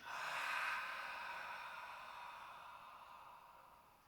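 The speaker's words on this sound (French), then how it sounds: "on essaye vraiment d'expirer au maximum" A long, forceful breath pushed out through a wide-open mouth during yoga breathing practice, loud and close at first and then fading steadily over about four seconds, heard alone.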